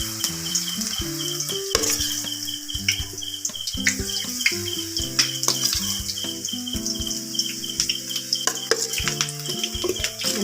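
Soybeans fry in hot oil with a continuous bright sizzle, broken by sharp clinks and scrapes of a utensil stirring the pan, with no speech.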